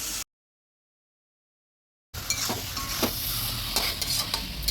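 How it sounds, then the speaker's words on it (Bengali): Chicken pieces frying in spiced oil as they are stirred in a pan: after a brief drop to silence, a steady close sizzle with a repeated scrape and clatter of the spoon against the pan. "এবার আস্তে আস্তে চিকেনগুলি সব দিয়ে দেবো এবার ভালোভাবে আমি কষাতে থাকবো"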